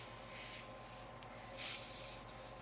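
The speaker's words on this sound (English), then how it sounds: "Got my air compressor at like 40 PSI" Compressed air from an air compressor set at about 40 PSI blowing through a fitting during a 4L60E transmission forward input drum air check; a steady faint hiss with brief louder bursts of air near the middle.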